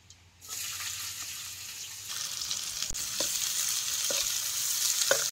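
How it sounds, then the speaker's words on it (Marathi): Finely chopped onion fries in oil in a kadhai over a wood-fired chulha after cumin, a constant bright sizzle rising from near silence, with a few sharp ticks and clinks, no one speaking. "कांदा बी तेलात चांगला भाजून घे."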